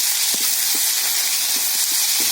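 Chopped onion and small tomato sautéing in a pan for a rohu fish curry with ridge gourd and Malabar spinach, giving a steady, close sizzle and hiss with a few soft stirring knocks, no talk.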